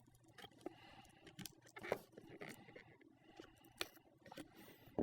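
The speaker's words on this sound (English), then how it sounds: "take that X-Acto knife, and just free up all the sides" Utility knife blade slicing through glued cardboard edges of a GoPro Hero5 Black box, a run of soft scraping, tearing cuts and small crunches at close range, quiet and uneven, with a sharper snap near the end.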